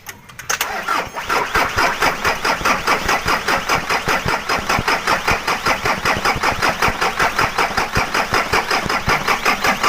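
A diesel engine cranks over and catches, then settles into a loud, steady idle with a strong regular pulsing knock, close by and alone for the full stretch.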